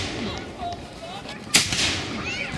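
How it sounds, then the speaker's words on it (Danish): A cannon salute fired at the Nysted harbour regatta as ships set out. A single sharp, loud boom cuts through outdoor harbour ambience, with faint voices in the background. "Og det blev fejret med kanonsalutter."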